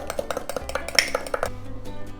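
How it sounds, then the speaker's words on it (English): A spoon clinks and taps against a bowl while half a lime's juice and zest are stirred together with mayonnaise, a quick series of light, close ringing knocks. "we're going to take the juice and the zest of a half a lime, and we're going to mix this together"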